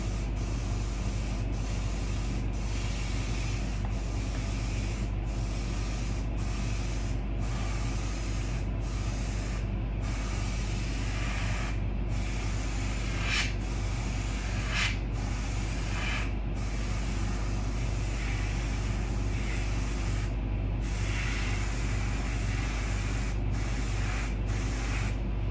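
Airbrush spraying paint onto an RC car body, a close continuous hiss broken into many short bursts and pauses as the trigger is worked, over a steady low compressor hum.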